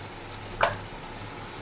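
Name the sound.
paneer frying with onion and garlic paste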